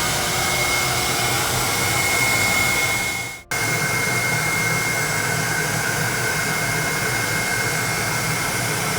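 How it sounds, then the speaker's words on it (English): A steady, loud rush of air exhausted from a pressure chamber during stucco wall leak testing hisses continuously, cut by one brief dropout partway through before resuming at full force. "Exhaust the air out of the chamber."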